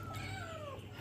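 A hungry house cat gives one drawn-out, falling meow, close and clear over a low household hum.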